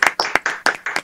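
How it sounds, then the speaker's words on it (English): Bursts of hand clapping from an audience, loud and close, arriving in several quick uneven clusters across about a second with no talk over them. "How about a round of applause, actually?"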